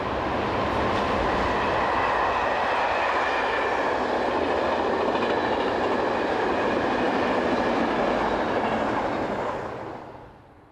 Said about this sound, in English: A Vienne to Venezia train passes behind